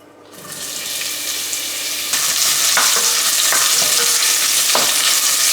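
Onions dropped into hot olive oil in a pan, an abrupt loud sizzle that swells and stays bright and hissing, with a few sharper crackles and stirring bumps, close up and with no talking.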